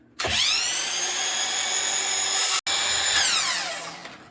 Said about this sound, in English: Get it square with our fence. Check it. And then cut it.